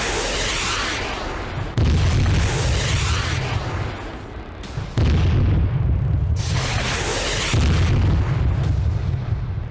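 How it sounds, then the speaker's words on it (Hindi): Heavy Israeli bombardment in southern Lebanon: loud, continuous roaring rumble broken by several deep, booming blasts that surge in and hold for a few seconds each. "दक्षिणी लेबनान में इजरायल ने भीषण बमबारी की है।"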